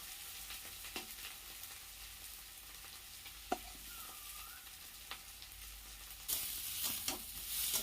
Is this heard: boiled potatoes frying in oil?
yes